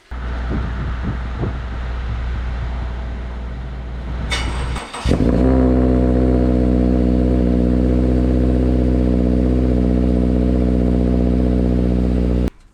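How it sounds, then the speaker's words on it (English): Subaru Crosstrek 2.0L with a Nameless Performance catback exhaust and 5-inch muffler, heard from the cabin on a cold start: starter clatter, then the engine catches into a loud, steady, droning idle that holds until the end. "There's the exhaust. It is the Nameless Performance catback with the 5-inch"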